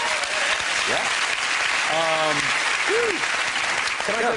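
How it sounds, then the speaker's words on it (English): A TV chat show studio audience applauds a couple, a loud, sustained roar of clapping throughout with cheers and whoops layered on top. "Give that a round of applause"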